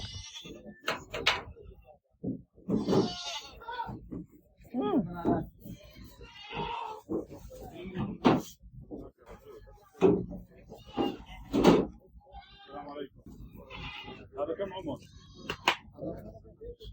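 Goats bleat repeatedly amid busy chatter at a livestock market in Oman, with people talking nearby throughout.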